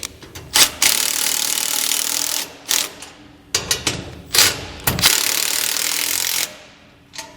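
Ratchet with a 14mm deep well socket tightening U-bolt nuts on a load bar bracket, heard as several close bursts of rapid clicking and scraping separated by short pauses, with no talking.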